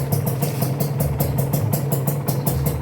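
A two-stroke Kawasaki Ninja motorcycle engine idles nearby with a loud, steady, rapidly pulsing exhaust beat, rough and rhythmic throughout, with no one talking.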